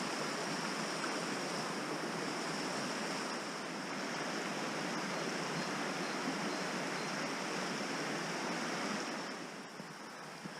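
A river flowing past its bank, a broad steady rush of running water that stays constant and fairly close throughout, with no voices.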